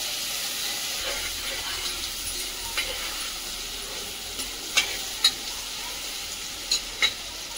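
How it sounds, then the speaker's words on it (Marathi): Finely chopped tomato frying in a pan, a steady bright sizzle and hiss throughout, with occasional soft scraping stirs and a few sharper spatula taps toward the end. "पूर्ण हे टोमॅटो बारीक फोड करून भाजून घ्यायचं आहे"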